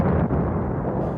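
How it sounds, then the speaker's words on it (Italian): A mortar shell explosion makes a loud, continuous, close rumbling boom that fills the whole brief moment with no whistle standing apart. "Si sente il sibilo di un proiettile di mortaio, poi un'esplosione."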